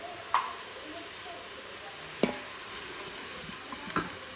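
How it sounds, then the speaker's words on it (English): A wooden spoon stirs spices into chicken chili, giving a few soft, sparse scrapes and taps against the pot over a quiet background. "Stir that in. My old trusty wooden spoon."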